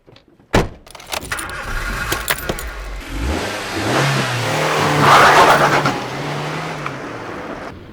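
A car's engine starts and revs as the car pulls away, rising to a steady, sustained roar after a sharp click near the start, with no voices.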